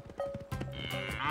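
Cattle low and bawl during a cattle drive in an animated show, several overlapping animal calls close by, with a brief voice-like sound mixed in among the herd noise.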